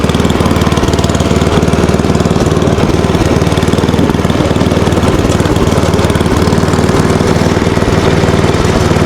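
An old snowblower's engine runs steadily and loudly up close, a continuous rough mechanical drone with no pauses and no talking over it.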